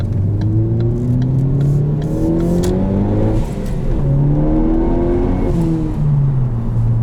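A 2013 Ford Focus ST ST2 fitted with an aftermarket intake and Ford Performance exhaust pulls hard through the gears, its loud close engine note climbing in pitch, dropping at a shift, then rising again in a second strong pull.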